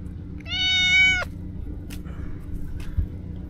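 A single clear meow, drawn out and close, followed by a few faint clicks over a low background hum.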